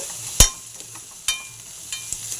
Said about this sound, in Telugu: ఫ్రై అవుతుంది, బాగా ఫ్రై అవుతుంది